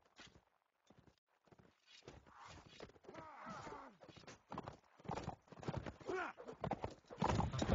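Cavalry horses in a video game battle, with a horse being stabbed by a pike, give off rhythmic hoof clip-clops and scuffling that grow louder toward the end. A voice talks over them now and then.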